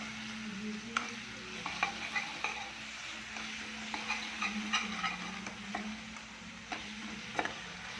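Onions and green chillies sauté in a pan for vada curry, a soft, steady sizzle broken by repeated gentle spoon scrapes and taps as they are stirred, heard close up but quietly.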